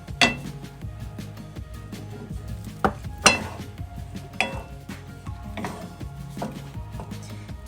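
A spoon stirs pesto cream sauce in a pan over low heat, irregular metallic clinks and scrapes against the pan over a soft background hum, spaced a second or so apart.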